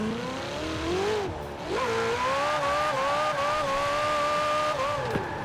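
A lowered car in the Forza Horizon 4 video game, driving Drift Adventure, holds a loud, sustained engine whine that rises and falls in pitch, with a short dip and tire noise mixed in.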